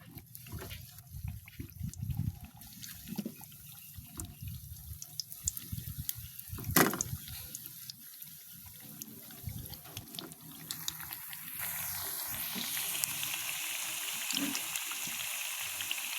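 Banana slices frying in oil in a pan for homemade banana chips: clattery, uneven sounds early on, then a broad, steady hissing sizzle that grows fuller and louder through the second half, without talking.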